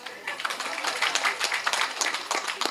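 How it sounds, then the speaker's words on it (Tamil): Audience clapping at a film audio launch event, a dense ragged patter of many hands that holds steady and moderately loud for a few seconds. "அதனால் தயவு செஞ்சு நீங்களே ஒரு தடவை கைத்தட்டிடுங்க."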